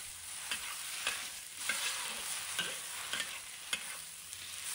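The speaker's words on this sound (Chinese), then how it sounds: "然后把所有食材放入锅中，将葱段也放入锅中，再把它快速的进行翻炒，翻炒均匀" Rice noodles with beef and scallions are stir-fried in a wok, giving a steady sizzle broken by rhythmic scraping and tossing clatters about once a second, close and without talk.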